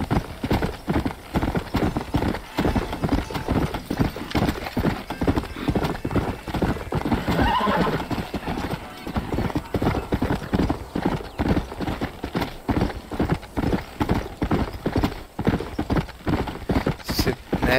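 A horse gallops in Red Dead Redemption Undead Nightmare, a dense rapid clip-clop of hooves that runs throughout, loud and close, with a whinny partway through and faint game noise beneath.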